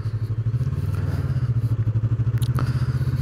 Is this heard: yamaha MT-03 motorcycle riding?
yes